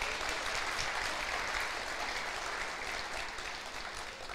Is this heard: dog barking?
no